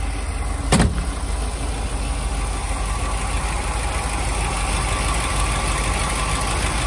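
A 1963 Chevrolet Corvette C2 engine runs at a steady idle, a close, even rumbling drone with a brief louder thump near the start and no talk.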